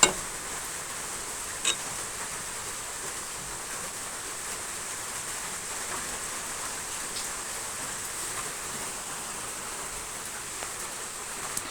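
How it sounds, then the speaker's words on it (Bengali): Coconut oil heating on a stove burner as it is rendered from coconut, giving a steady, soft, even hiss with faint crackles throughout and no talking. "এখন এই তেলগুলোকে আমি চুলার মধ্যে জাল দিব"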